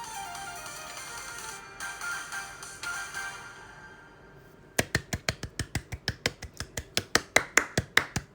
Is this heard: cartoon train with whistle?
no